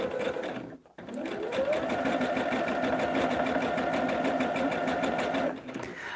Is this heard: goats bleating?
no